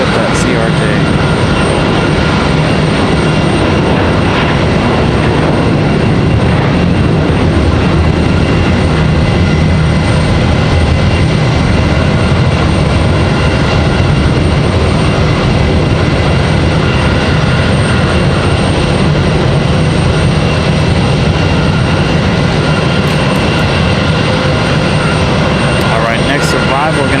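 A CRJ regional jet taxis at Raleigh-Durham International Airport, a steady loud jet-engine whine and roar that holds for the full stretch, with people talking over it.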